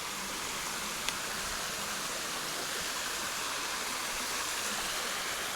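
Creek water tumbling over rocks along a forest hiking trail, a steady broadband rush that holds even and unbroken throughout with no voices.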